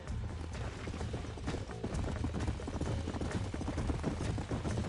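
Rapid, rhythmic clip-clop of horse hooves at a steady gallop in the video game Red Dead Redemption, loud and close, running continuously throughout.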